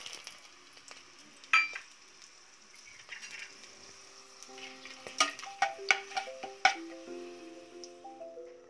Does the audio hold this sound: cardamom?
yes